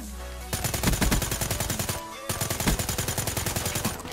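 Automatic gunfire rattles in Call of Duty: Black Ops 3, with loud, close, rapid bursts that break off briefly and then resume at the same fast rhythm.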